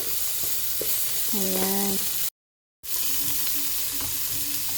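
Ginger sizzles and fries steadily in a hot pan, a constant close hiss with a few soft stirring taps, broken by a brief silent gap and a short word of speech.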